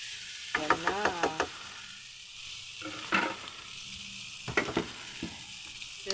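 Mung bean sprouts sizzle in a frying pan while a utensil stirs them, with clattering scrapes and knocks in short bursts over a constant hiss.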